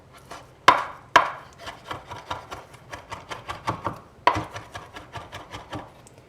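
Knife chopping fresh tomatoes and basil leaves on a wooden cutting board, a steady run of close, sharp knocks about three to four per second, with a few louder strikes early on and no talk.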